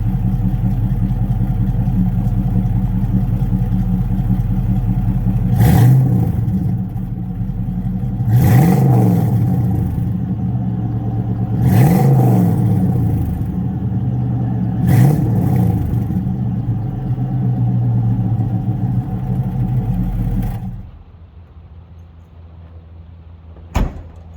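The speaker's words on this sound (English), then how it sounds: "Let me give it a couple revs for you." A Chevy C10 truck with a mildly built fuel-injected LS engine idles with a steady rumble, broken by four sharp revs spaced a few seconds apart, before the engine shuts off.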